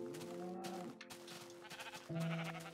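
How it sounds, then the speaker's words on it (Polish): Sheep in the blocky sandbox game Minecraft bleat in a couple of wavering, nasal calls close by, heard alone with no talk over them. "Dużo owiec."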